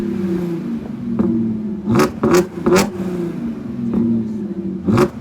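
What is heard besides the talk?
modified Audi A6 exhaust revving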